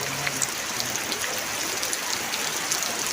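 Heavy rain pours steadily in a dense, even hiss of countless drops striking surfaces, close and constant without a break, with no voices over it.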